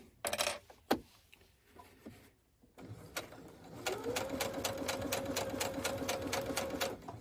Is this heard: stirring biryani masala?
no